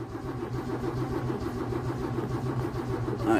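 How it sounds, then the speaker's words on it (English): A 1964 EH Holden Ute engine being cranked by the starter, a steady rhythmic churning that runs without catching for several seconds, close and moderately loud, with a brief louder burst at the very end. "I'm just going to crank it from here."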